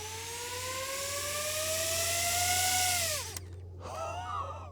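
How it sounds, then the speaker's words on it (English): DJI FPV drone motors spinning in turtle mode: a loud, close whine climbs steadily in pitch, cuts off abruptly, and returns a moment later as a brief, rougher burst. "the drone determines which part of the drone is sitting lower and spins the opposite side"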